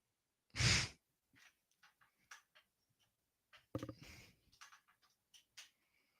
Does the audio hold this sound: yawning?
yes